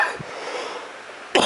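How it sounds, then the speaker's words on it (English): A single sharp cough bursts out close by, then a second harsh cough follows after a short pause in a quiet indoor space. "Been coughing a lot lately."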